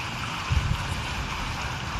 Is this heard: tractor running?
yes